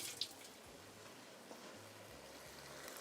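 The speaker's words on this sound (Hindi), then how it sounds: "हाथ धो लेते हैं" A kitchen tap runs while hands are washed between cooking steps, giving a faint, steady hiss of water with a few soft splashes. No one speaks.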